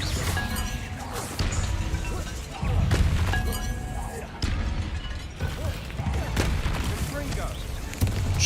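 Repeated Confringo blasting-spell explosions in Hogwarts Legacy, heavy booming crashes with shattering debris and sharp impacts, laid over continuous game ambience and effects.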